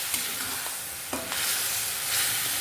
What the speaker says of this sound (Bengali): মশলাটা যে কন্টেনারে দিয়েছিলাম সেটা একটু অল্প জল দিয়ে ধুয়ে আমি এর মধ্যে অল্প জল দিয়ে দিচ্ছি